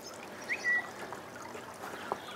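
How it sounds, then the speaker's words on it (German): Gentle trickling from a small switchable waterfall edged with stones at a garden pond, a faint steady flow with a couple of brief brighter splashes, no voices. "Zuschaltbar am Wasserfall."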